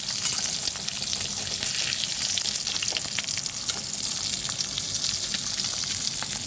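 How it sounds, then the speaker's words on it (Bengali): Eggs poach and fry in hot oil in a pan, giving a steady, close, dense sizzle with scattered crackles and pops throughout, with no voices over it. "আমি আগে ডিমগুলো সব পোচ করে নেব"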